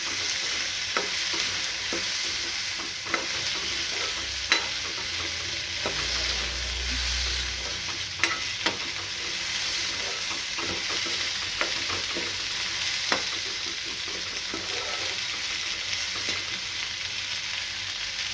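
Raw mango pieces fry with asafoetida in a pan, giving a steady close-up sizzle broken by regular scraping clicks as the mixture is stirred.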